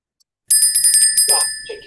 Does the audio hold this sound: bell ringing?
yes